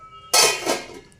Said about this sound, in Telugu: ఇప్పుడు మూత పెట్టుకుందాం,